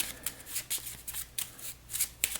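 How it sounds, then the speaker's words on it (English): A deck of cards for a dinosaur deck-building board game is riffled and shuffled by hand, several quick, crisp bursts of flicking cards in an uneven rhythm, close and fairly quiet. "There's nothing in my draw pile, so I need to shuffle this up so I can draw a card."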